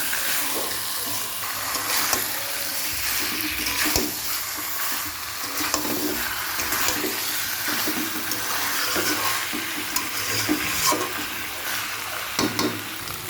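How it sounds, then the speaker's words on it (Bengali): Chicken pieces fry in a spiced masala in a home kitchen pan, a continuous sizzle broken by repeated scraping and stirring strokes, close and fairly loud throughout. "মশলার মধ্যে মাংসটা দিয়ে দিয়েছি, নুনও দিয়ে দিলাম।"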